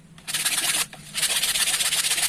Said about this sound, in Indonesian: Lalu kita amplas lagi yang tutungnya sampai dirasa bersih.